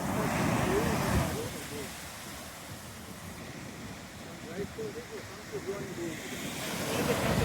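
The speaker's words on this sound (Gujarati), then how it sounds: "પાણીનો અવાજ આવતો હશે" Sea waves at night on the shore, a faint, rolling wash of water that swells at the start and end, mixed with wind rumble on the microphone and a soft murmur of voices underneath.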